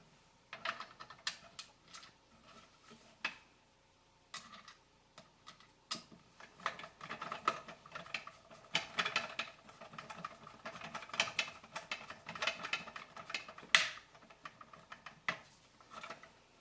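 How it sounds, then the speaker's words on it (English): Close, quiet clicking and ratcheting as a screwdriver drives small self-tapping screws into 3D-printed plastic, in short irregular bursts separated by pauses. "Just screw those down in there."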